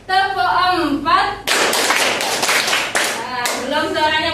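A class claps hands together in a quick steady rhythm during a lesson, several sharp claps in a row, bracketed by a voice speaking before and after.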